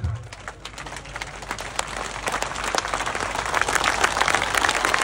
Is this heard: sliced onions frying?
no